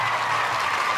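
Crowd clapping in steady, dense applause, even in loudness throughout, with no talk over it.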